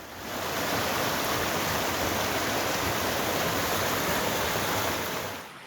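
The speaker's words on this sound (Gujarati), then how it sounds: "વાડી વિસ્તારમાં વરસાદી પાણી વહેતા થઈ ગયા" Steady rushing rainwater flowing through farmland after heavy monsoon rain in Saurashtra, a continuous broadband wash like runoff flowing fast, loud and unbroken throughout with no voices.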